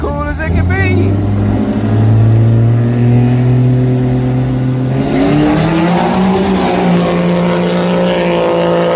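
Street race cars accelerate hard at a drag strip, a loud sustained engine roar climbing in pitch with a second rising surge partway through, close by with voices underneath.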